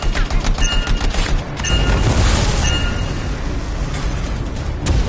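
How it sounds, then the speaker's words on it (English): Explosives detonating in the video game Anthem, a loud blast with rumbling booms and crackling bursts like gunfire layered over a sustained roar, with a final sharp hit near the end. "I think the explosion destabilized the foundry"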